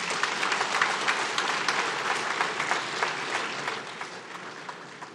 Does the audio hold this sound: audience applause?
yes